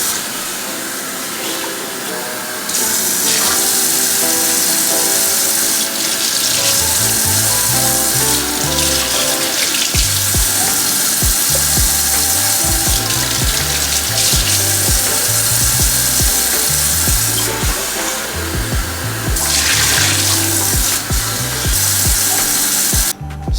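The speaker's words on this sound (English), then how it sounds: "So now we're gonna rinse off the bones." Beef bones for homemade bone broth rinsed under running tap water in a sink: a loud, steady rush of water with clattering and rubbing of bones against the basin throughout, close and without talk.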